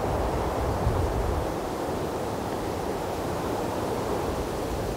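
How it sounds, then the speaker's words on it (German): A steady, loud rush of wind mixed with surf fills the beach on the North Sea island of Juist, a continuous broadband roar with no pauses and no talking. "die frische Brise weht einem ins Gesicht"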